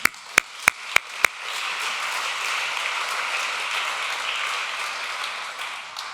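At an award ceremony, five sharp, separate claps ring out close by before the audience breaks into a full, sustained round of applause for the Banque cantonale du Jura, which carries on steadily to the end.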